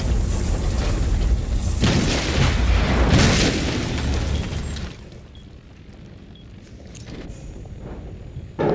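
Meister cannons fire in a competitive video game match, producing deep booming blasts and rumbling impacts that roll on for several seconds before fading to a quieter, hollow background with a final thump.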